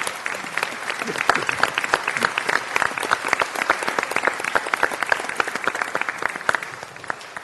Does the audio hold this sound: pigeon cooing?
no